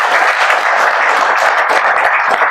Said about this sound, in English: I will request everyone to give him a round of applause.